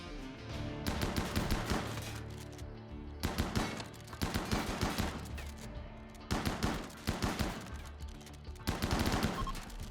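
Chain shotgun fire in RimWorld crackles in rapid, loud bursts, four or five dense volleys of overlapping shots, each lasting about a second and a half with short gaps between.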